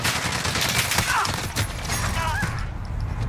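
Rapid automatic gunfire in the video game Call of Duty Modern Warfare, a sustained loud burst of shots with mechanical clatter, playing continuously from start to finish.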